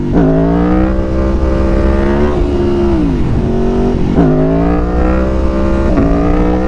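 A motorcycle engine revving hard in second gear during a power wheelie, loud and close, with sustained high revs that rise and dip several times as the throttle is worked, no talking.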